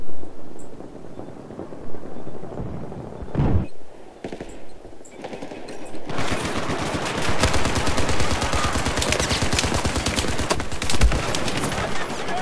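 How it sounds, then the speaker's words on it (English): Mounted .50 cal machine gun fires in Battlefield 4, opening with scattered shots and impacts, then after a brief lull breaking into loud sustained rapid bursts that run continuously to the end. "Who knew they had a mounted machine gun?"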